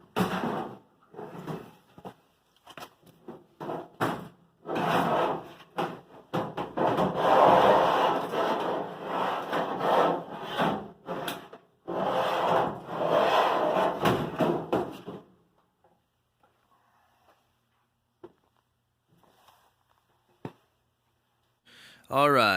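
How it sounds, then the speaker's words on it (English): Releasing belt tension on the idler pulley of a Samsung dryer, with the belt being loosened off the motor, gives long stretches of close scraping, rubbing and knocking from metal and belt parts before the work falls almost silent. "Now I'm going to loosen the belt off the motor by releasing the tension off the idler pulley so we can pull the drum out."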